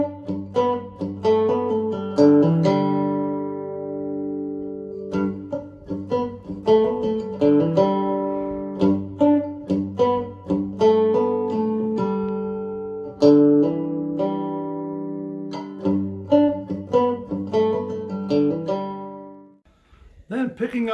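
Cigar box guitar riff from a playing lesson, a steady run of plucked, twangy notes over a droning low string, close and solo with no speech, winding down to a brief pause near the end.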